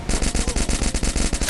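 Rapid bursts of pistol gunfire in a shooter video game, a fast steady string of about a dozen loud shots fired back to back, close and alone.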